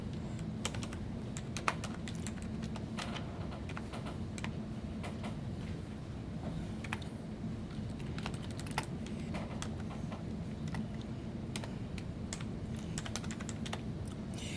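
Steady clatter of keys on a computer keyboard as a date is entered, many quick close taps in an uneven typing rhythm, no voices.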